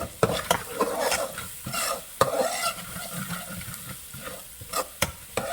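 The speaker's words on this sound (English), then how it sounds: "We're gonna saute that for a little bit." Turmeric and vegetables are sautéed in a pan for a coconut fish and shrimp stew, with steady sizzling and repeated scraping stirs and clinks of the utensil against the pan, close and fairly loud.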